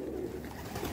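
Frightened pigeons near a wooden lattice window coo softly at a distance, a low, murmuring call over steady background noise, with no talking.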